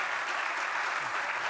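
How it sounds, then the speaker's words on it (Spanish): Audience applause breaking out at the close of a conference talk, a steady dense wash of clapping from a full room, sustained and even throughout with no voices rising above it. "Bien, pido un fortísimo aplauso."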